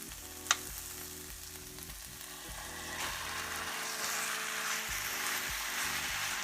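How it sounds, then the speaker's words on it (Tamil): Minced mutton frying with softened onions in a hot pan, a loud continuous sizzle with scraping stirs and a sharp clank near the start, no voices. "கறியை ஆட் பண்ணிவிட்டு இது நல்லா கறி சுருண்டு வர வரைக்கும் நம்ம அப்படியே வந்து வணக்கணும்."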